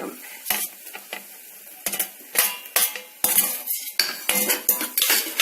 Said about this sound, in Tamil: இப்போ தக்காளி நல்லா ஸ்மாஷ் ஆகிற வரைக்கும் எண்ணெயில் வதக்கிக்கலாம்.